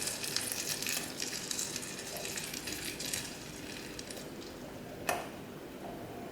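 Fried curry-leaf tempering stirred into a Kerala prawn and green mango curry, a faint soft sizzle with light stirring and one sharp clink of a utensil against the pot near the end.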